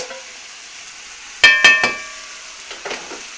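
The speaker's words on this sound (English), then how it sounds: "I'm going to throw these onions back in there." Onions thrown back into a hot pan for goulash, with a few sharp clanks of metal and a burst of sizzling over a steady background hiss, followed by quieter scraping.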